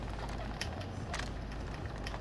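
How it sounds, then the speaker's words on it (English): Weapon reloading in a first-person shooter video game, a quick run of close mechanical clicks and ratcheting clacks over a steady loud game background, with no talk. "My bad, let me reload."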